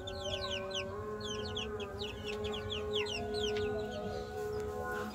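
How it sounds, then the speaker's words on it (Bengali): A pair of Brahma chicken chicks cheeping in rapid high chirps over a steady hum, close and continuous with other fowl clucking nearby. "আর এইখানে আছে এক জোড়া ব্রাহ্মার বাচ্চা।"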